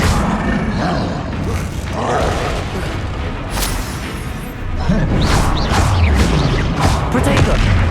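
The Confringo explosion spell in Hogwarts Legacy bursts in loud, booming blasts amid dense, continuous combat noise, with whooshing impacts stacking up during a fight.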